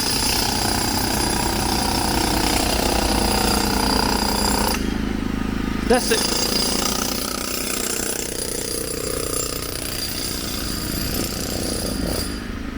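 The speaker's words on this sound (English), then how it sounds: "Sorry for the noise, folks. Construction work." Construction work rattles loudly and continuously on a Stockholm street in Vasastaden, a harsh jackhammer-like drone that drops out briefly midway and then returns. A short spoken remark comes in near the end.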